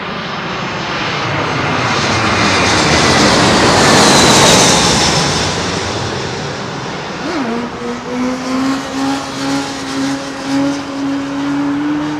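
Big jet airliner passing overhead near London Heathrow: a broad roar swells to a loud peak, then eases into a lingering engine whine with wavering tones as it moves away.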